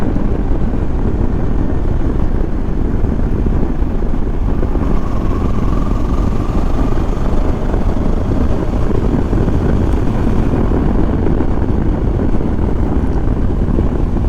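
A Kawasaki Versys motorcycle rides through a forest with a loud, continuous engine drone and wind rush, heard from close by, with no talking.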